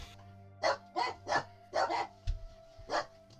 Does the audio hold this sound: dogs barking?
yes